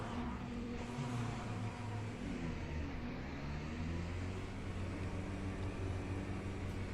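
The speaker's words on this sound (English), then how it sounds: "listen to this Corvette. Listen to the inside and the outside." A Corvette race car engine drones steadily in the racing game Le Mans Ultimate, a continuous broadband roar at moderate level with no speech.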